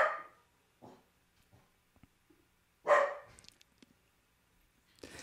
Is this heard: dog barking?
yes